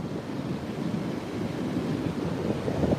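A set of ocean waves breaks on Currumbin beach on the Gold Coast, Queensland, Australia, a steady broad wash of surf with wind buffeting the microphone, swelling slightly toward the end.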